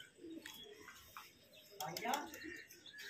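Pigeons coo softly nearby in a housing setup in Bijnor, India, with a few chirps, faint and intermittent, while someone talks quietly in the background.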